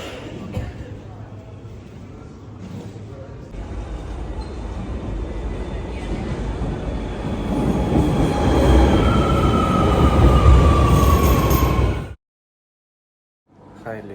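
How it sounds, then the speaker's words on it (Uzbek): A Barcelona metro train rumbles along the rails and grows louder, with wheels squealing high near its peak before the sound cuts off abruptly. "Mana metro"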